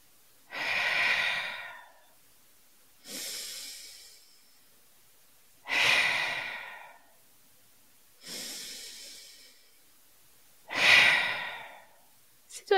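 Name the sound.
three deep breaths in a breathing exercise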